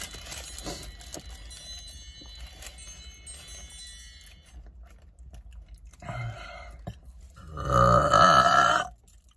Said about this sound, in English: I don't think I've ever heard you burp like that.